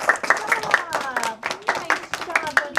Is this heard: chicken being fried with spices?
no